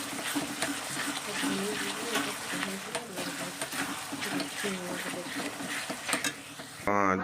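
Ginger and garlic frying with onions in a pan for a home-style mutton curry, a soft steady sizzle with occasional stirring clinks, running beneath continuous talking.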